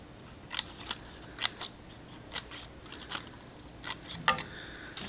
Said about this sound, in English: Now this here is a scissors, of which you just grab it and cut.